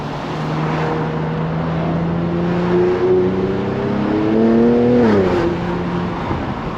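A slammed Infiniti Q50 Red Sport accelerating hard at night, its engine note climbing steadily in pitch before shifting near the end, loud and close with a continuous road roar underneath.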